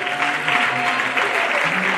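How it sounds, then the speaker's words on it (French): Audience clapping at a school prize-of-excellence ceremony, a dense steady wash of applause from a hall full of people, loud and continuous throughout with a faint tone running beneath. "Applaudissez pour le premier des premiers"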